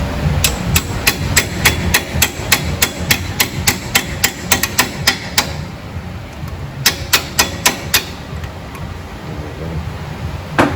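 Rusted ball joint on a 2007 Jeep Wrangler being struck with a hammer, a rapid series of loud, sharp metallic blows in a steady rhythm, a short pause, then another quick burst of hits, close by with no talk.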